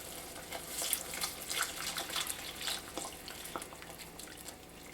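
Hot vegetable broth poured into a soup pot, a faint continuous trickle and splash of liquid with small drips, soft and steady.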